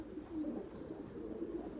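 Soft, continuous cooing from tumbler pigeons rolls on in low, repeated phrases near the microphone, with faint rustling of birds settling in the background.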